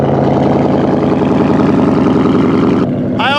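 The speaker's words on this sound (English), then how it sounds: "Engine sounds healthy" A loud, rumbling Ford Mustang GT V8 idle with a deep throbbing exhaust, steady and close, before the engine note cuts off near the end.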